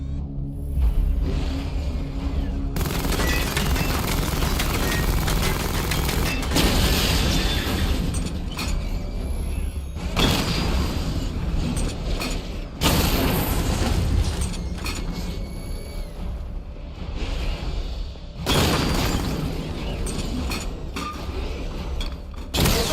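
Weapon fire and missile barrage explosions in the video game Batman Arkham Knight, during a weapon energy diagnostic test against targets: loud repeated booming blasts come in dense bursts, separated by brief quieter gaps.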